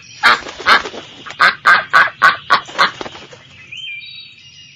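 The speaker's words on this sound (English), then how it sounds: "The duck." A farm duck quacks in a quick series of about eight loud, close calls, evenly spaced over a few seconds, followed by a brief higher squeak and quiet.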